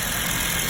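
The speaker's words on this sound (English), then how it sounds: "And now I have successfully started the car" A car engine idling steadily just after being started, a car showing a blinking engine light and suspected misfire, with a loud, continuous close rumble and no talking.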